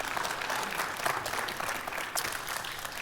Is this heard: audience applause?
yes